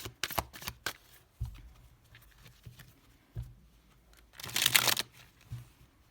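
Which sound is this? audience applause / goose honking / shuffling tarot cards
shuffling tarot cards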